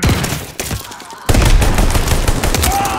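A gun fires in rapid bursts in Call of Duty: Vanguard multiplayer, with sharp cracks that break off briefly and then resume louder and denser.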